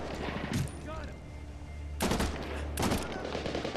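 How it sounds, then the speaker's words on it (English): Gunfire bursts in the online shooter Medal of Honor Warfighter: two short, sharp volleys about a second apart, moderately near, over a steady low background hum. "Because y'all keep shooting me."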